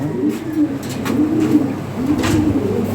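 Bombai breed pigeons coo close and loud in a pen, repeated soft rolling coos overlapping in a steady rhythm, with no talking over them.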